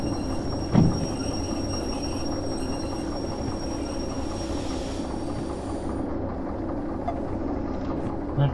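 A locomotive in the train-driving game Derail Valley runs steadily with a continuous rumbling, rattling drone and a faint high whine, and a brief clunk sounds near the start.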